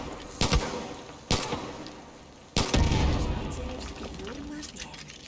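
Gunfire in the first-person shooter Far Cry New Dawn: three sharp separate shots ring out with a trailing rumble after the last, over a low game background.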